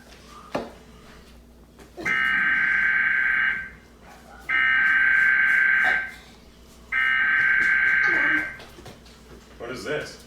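A radio emergency alert broadcast plays its harsh attention tone in three long, loud, steady buzzing bursts about two seconds each, separated by short gaps, with brief noise at the edges.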